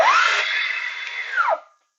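A Festool TSC55K cordless plunge saw at speed setting 1 spins up with a rising whine, holds a steady high motor hum for about a second and a half, then winds down quickly, close and alone.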